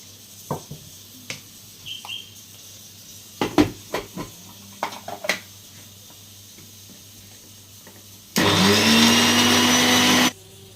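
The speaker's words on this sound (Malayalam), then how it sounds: "കുറച്ച് വെള്ളം ഒഴിച്ച്" A kitchen mixer grinder grinds a salted paste with a little water. Scattered light clatter comes first, then the motor bursts on loud and close, whirring steadily for about two seconds before cutting off.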